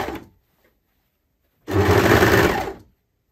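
A sewing machine stitches a hip yoke onto a circular-cut skirt: a single close, steady mechanical run of just over a second, following near silence.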